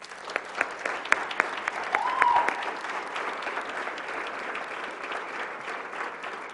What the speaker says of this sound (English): If you would please join me in one more round of applause.